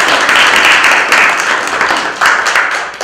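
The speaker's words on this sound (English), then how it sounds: "So please join me in giving them a round of applause." Audience applause at a HUD New England regional gathering in New Bedford, a dense, steady wash of many hands clapping close by that swells and dips slightly in waves.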